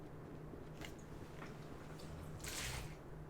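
Water fountain being slapped repeatedly in Bloodstained: Ritual of the Night, heard as faint wet squishing splashes, a few soft splats and then a brighter watery slap near the end, all quiet under a low hum.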